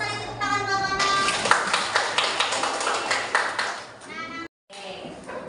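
A high school physics class in Indonesia bursts into applause for a student, with dense hand clapping lasting a few seconds, a teacher's voice before it and a short cut to silence near the end.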